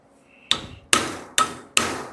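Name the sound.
hammering metal panel to curve it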